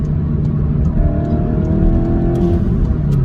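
Skoda Octavia vRS wagon engine pulling hard and steady, its rising tone sweeping up through the gears on track, loud and close throughout with no talk.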